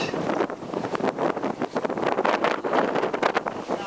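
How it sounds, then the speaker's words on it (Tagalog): Strong wind buffets the microphone outdoors at a work site, producing gusty, rumbling bursts that rise and fall unevenly from start to finish. "Takot ng hangin dito."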